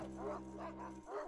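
Dog barks in Paper Mario: The Origami King, a few rhythmic game-sound yaps over a steady low musical drone, fairly close and clear.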